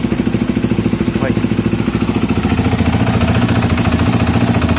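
A Polaris Predator 500 ATV engine runs with a loose exhaust, putting out a loud, steady, rapid thumping idle with a metallic rattle throughout, and faint voices may sit underneath.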